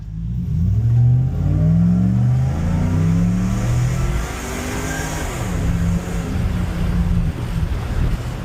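A stock 5.7 HEMI Ram truck with an Edelbrock supercharger and no nitrous: a loud, close engine note climbs steadily under hard acceleration, briefly settles, then rises again, with wind noise throughout.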